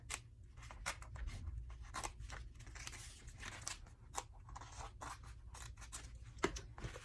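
Scissors cut contact paper for dog vest patches in a rapid series of close, crisp snips and rustles, quiet and without speech.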